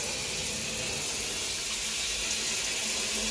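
A new low-flow RV shower head runs a steady, full stream of water, a continuous even rushing hiss that stays constant throughout with no voices over it.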